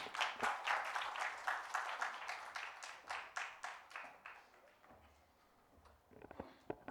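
Scattered applause from a conference audience after a talk on AI in taxation, a fairly sparse round of claps that thins out toward the end before a few last claps.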